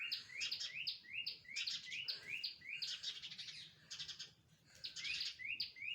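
Sparrows guarding chicks in a nest inside a well chirp in rapid repeated bursts of short, bright calls, fairly faint and slightly echoey, pausing briefly before resuming.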